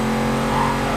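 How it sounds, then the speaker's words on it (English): A heavy police car spinning its wheels through burnouts in the racing game Need for Speed Carbon gives off a loud, steady engine drone held at high revs, close up with no voices. "Let's see how she does for burnouts. Oh yes, very good burnouts."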